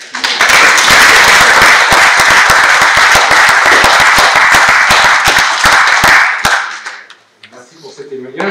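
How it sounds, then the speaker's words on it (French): Sustained audience applause in a hall after a personal testimony, dense steady clapping for about six seconds, then fading out as a voice begins to speak. "Merci au public pour ces applaudissements."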